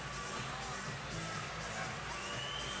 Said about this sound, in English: this loud crowd is awake, that's for sure